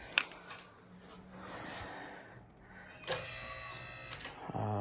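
A QuickJack car lift raising a car in a garage, a strained electric motor whine with a hydraulic hum that rises and swells, ending in clicks and a sharp tonal squeal.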